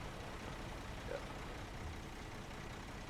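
A truck engine runs in the video game SnowRunner, a low, steady, even drone with no clear revving or change in pitch, and no voices.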